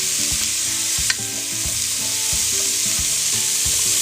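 Carrots cooking in a pot for stew sizzle steadily and loudly, with regular soft knocks from stirring and one brief sharp click early on.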